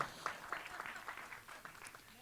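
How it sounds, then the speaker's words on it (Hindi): Applause for Shilpa Shetty at a film trailer launch event, fairly quiet and distant, with scattered claps rising and fading over a couple of seconds. "शिल्पा जी के लिए जोरदार तालियां हो जाएं"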